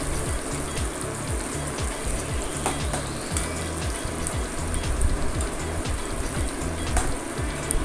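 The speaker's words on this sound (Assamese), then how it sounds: "পিঁয়াজখিনি এতিয়া ধুনীয়াকৈ ভাজি ল'ম" Chopped onion and green chili fry in hot oil with a loud, close, unbroken sizzle, while a spatula scrapes and stirs in a regular rhythm throughout.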